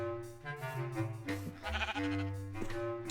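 A video game sheep bleats in a drawn-out, wavering call, rising and falling several times, close and clear with no talk over it.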